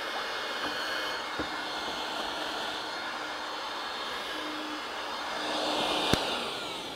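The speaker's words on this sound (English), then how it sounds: "my new DeWalt 20-volt max shop vac has been on the show" A DeWalt 20-volt max shop vac sucking up fiberglass dust roars steadily and loudly at close range, with no talk over it, the pitch swelling briefly near the end and then a sharp knock.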